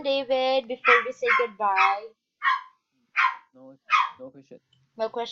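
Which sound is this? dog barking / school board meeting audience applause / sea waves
dog barking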